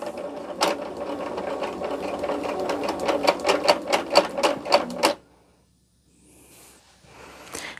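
A sewing machine stitches a quilt block at close range in a rapid, loud rhythmic burst lasting about five seconds, then stops abruptly, leaving near silence with faint rustling.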